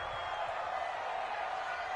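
Crowd noise from a football video game stadium ahead of a big third down, a steady, fairly faint wash of cheering and murmur with no clear peaks.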